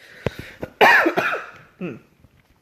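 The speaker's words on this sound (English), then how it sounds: "Sorry, this cough is persistent." A person coughs a few times, a short hack followed by a harsher, throaty burst and a weaker cough trailing off, close to the microphone.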